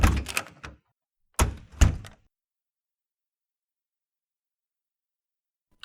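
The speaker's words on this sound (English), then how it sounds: "Tosai proceeds to leave the classroom after closing the door behind him" A classroom door thuds shut: a few clunks and a knock-like bang at the start, then two heavier thumps a second later, followed by silence.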